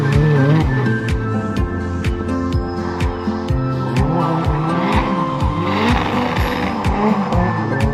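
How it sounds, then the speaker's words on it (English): A turbocharged Mazda MX-5 drifting: a loud, continuous engine roar with repeated rising and falling revs and steady screeching tire squeal, heard close and without talk. "That's the Turbo MX-5."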